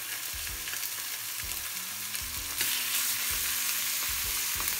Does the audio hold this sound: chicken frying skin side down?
yes